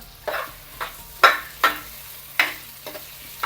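Okra sizzles in a hot pan with a sprig of curry leaves while a spoon scrapes and stirs in quick, evenly spaced strokes, each one a sharp scrape over a softer crackle.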